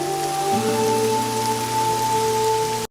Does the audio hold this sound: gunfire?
no